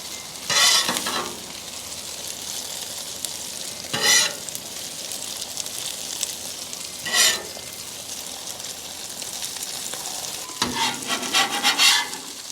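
Smash burgers sizzling on a griddle, pulled pork style: a constant close crackle with several loud bursts of hissing and scraping as the patties are pressed and turned, no voices.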